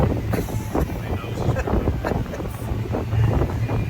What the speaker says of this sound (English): It's definitely breezy, cool breeze